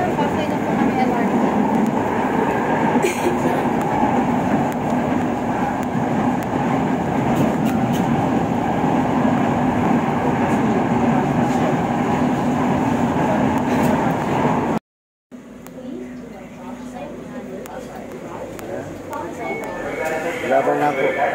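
Steady rumble and rattle of a Manila LRT light rail train in motion, continuous and loud, with voices talking over it; a brief dropout, then quieter interior noise.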